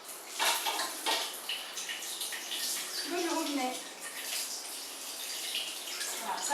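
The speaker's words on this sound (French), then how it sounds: "Et on passe ensuite sous l'eau du robinet." Tap water runs and splashes over the parts of an Omega VRT juice extractor being rinsed, with faint clinks of the parts and a quiet voice speaking at times.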